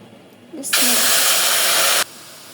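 Water hits a hot pan of cut pumpkin and river prawns, bursting into a loud, steady sizzling hiss that lasts more than a second and then cuts off abruptly.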